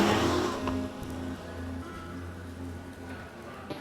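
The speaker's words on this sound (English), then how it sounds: "the engine sound comes from behind me, and that makes me happy" The mid-mounted six-cylinder engine of a 2020 Porsche 718 Cayman GT4 hums steadily from behind the cabin, a moderate tonal drone that eases slightly in loudness over a few seconds, with no speech.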